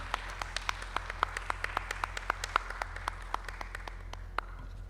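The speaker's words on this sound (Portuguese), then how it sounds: "Uma salva de palmas para" Slow, evenly spaced claps at the close of a conference session, sparse and quiet against a low steady hum, like a few hands or a small audience clapping in rhythm.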